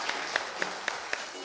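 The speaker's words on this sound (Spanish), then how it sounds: "Fuerte aplauso." A game show studio audience applauds a contestant, a steady wash of clapping with a few sharper, evenly spaced claps standing out on top and a voice mixed in.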